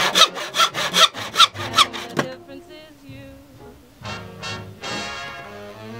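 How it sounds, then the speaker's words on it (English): Hand saw cutting strips of mahogany, a run of quick steady back-and-forth strokes up close, followed by softer rubbing and scraping of wood. "What we need to do now is cut down these strips of mahogany and then start gluing them in."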